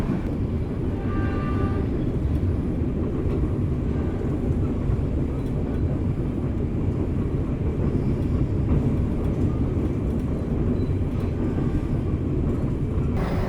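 A steady, loud rumble of the Joglosemarkerto passenger train rolling along the rails in Indonesia, approaching Gundih station, with continuous low clatter and no pauses throughout.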